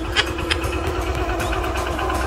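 A motorcycle engine idles close by with a steady, even throb and a faint rattle, running continuously with no voices over it.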